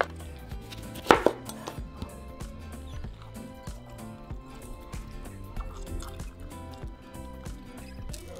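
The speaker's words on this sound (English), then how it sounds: "we're going to squeeze out the lemon juice out of our lemons." Fresh lemons are squeezed by hand for a watermelon and cucumber agua fresca, giving close, irregular squishes, drips and light knocks against a bowl, with one sharper clatter near the start.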